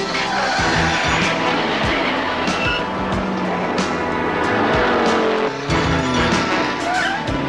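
A car sliding through a handbrake turn in the 1982 film Highpoint, with a loud, continuous engine roar and tire noise that swells and dips across the whole stretch, no voices present.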